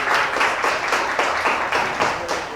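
An audience at a secondary school claps after a student presentation, giving brief, moderately loud applause with a loose rhythm of hand claps that fades slightly toward the end.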